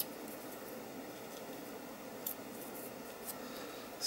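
Scissors snip through paper in a crafting project, producing a few faint, brief cuts close by against a soft hiss.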